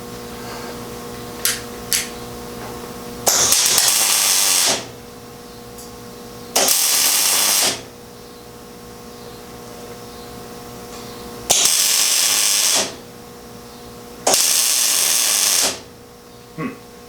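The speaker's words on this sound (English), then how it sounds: "I'm gonna flip this thing over and weld back here." Metal welding in four separate bursts of loud, steady crackling hiss, each lasting one to two seconds with quiet gaps between, alongside a couple of short knocks and no talking.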